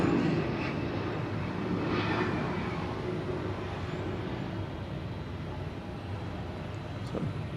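Delta Connection flight 4930, an airliner rolling on the runway at Atlanta airport, makes a steady broad engine roar that fades slowly as it moves away. Heard from a distance, with no talk.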